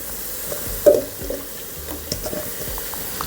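Cassava pieces drop into a hot pan and fry, giving a soft sizzle with a few clacks and stirring scrapes, close and fairly quiet.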